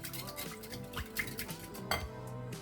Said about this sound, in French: Et je la touille. Elle est mélangée à mon fond de lait.